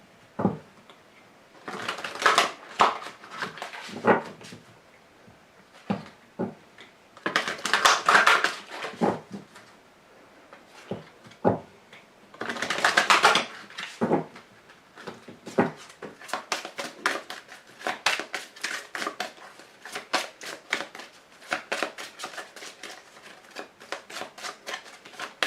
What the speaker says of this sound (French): Je vous tire également une carte de l'archange Gabriel, qui va être une carte conseil.